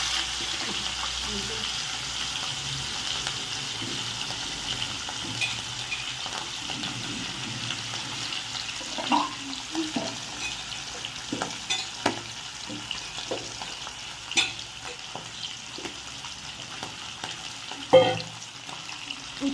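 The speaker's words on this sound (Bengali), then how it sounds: "তেল গরম হয়ে গেছে এবার আমরা মাছ দিয়ে দিয়েছি মাছটাকে একদম হালকা করে ভেজে নেবো" Hilsa fish frying lightly in hot oil, a soft, steady sizzling hiss with scattered crackles and a few sharper pops, fairly faint and close throughout.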